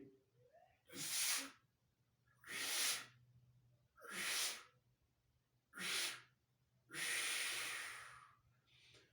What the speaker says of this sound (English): The yogic cleansing breath. Okay, we inhale, exhale,